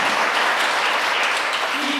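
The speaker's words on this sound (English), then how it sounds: "And a warm applause goes to the prize as well." Warm applause fills a film festival award ceremony as a prize is presented, a dense, steady wash of clapping from a large audience that stays loud throughout.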